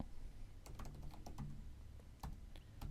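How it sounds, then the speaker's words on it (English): Typing on a computer keyboard, a quick run of close, crisp key clicks in irregular bursts over a faint background hum, with no voices. "So I'll quickly type that"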